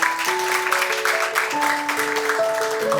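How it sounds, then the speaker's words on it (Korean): Applause from the audience at a human rights advocates' forum in Jeonbuk, greeting the panelists after a panel discussion, a steady broadband patter of clapping filling the room with a sustained tone ringing through it. "장시간 수고해주신 패널 여러분께 큰 박수 다시 한번 부탁드리겠습니다."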